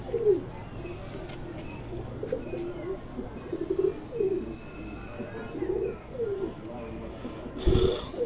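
Pigeons on a rooftop loft coo in repeated low, throaty rolling calls, several birds fairly close, with faint background noise and a brief thump near the end.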